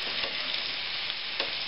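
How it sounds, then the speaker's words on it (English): Bacon frying in a greasy pan, a dense continuous crackling sizzle with a couple of sharper pops, close and steady throughout. "Right now I got the bacon. Yum yum. Look at all that grease."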